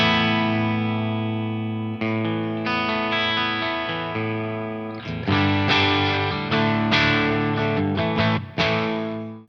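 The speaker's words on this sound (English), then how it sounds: "So that's the sound of the guitar straight into the twin sister." Electric guitar played straight into a Crazy Tube Circuits Twin Sister boost pedal gives bright, sustained, driven chords. The chords are struck one after another, with reverb and delay tails, ringing out loud and close.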